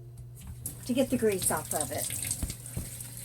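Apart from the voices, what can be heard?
hot water from a tap rinsing ground beef in a colander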